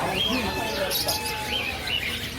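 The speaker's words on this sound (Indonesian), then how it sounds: "Ini burungnya tuh, burung lovebird." Lovebirds at a busy bird market give bright, high chirps and short trilling calls that rise and fall through the clip, over steady crowd noise and voices nearby.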